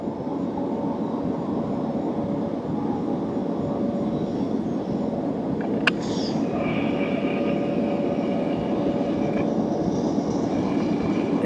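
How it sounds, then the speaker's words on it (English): A Norfolk Southern freight train approaches in the evening near Chattanooga, heard as a steady broadband rumble and roar that holds level throughout, with a brief sharp click midway and a faint whistle-like tone later on. "Yeah, sounds like we have an NS train coming."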